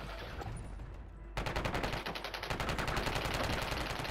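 Rapid automatic gunfire in a video game, a dense continuous stream of shots starting abruptly and running loud to the end, after a quieter stretch of game background sound.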